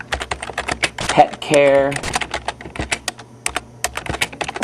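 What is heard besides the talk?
typing on a computer keyboard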